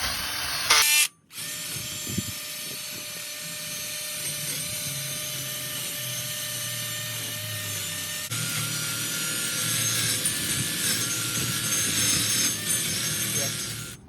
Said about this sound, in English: Now I'm taking this sanding disc on this drill to take some of this rust off this part